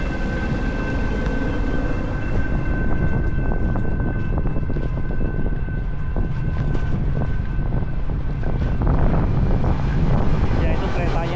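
Train passing on the elevated rail line above the Upfield shared bike path in Melbourne: a loud, continuous rumble with a sustained tone, mixed with wind noise from the moving rider.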